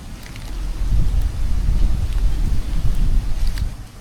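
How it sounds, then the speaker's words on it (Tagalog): Strong wind buffeting a microphone, a continuous low rumbling roar that swells and eases, loud and close with no other sounds standing out. "yung hangin lang yung maingay"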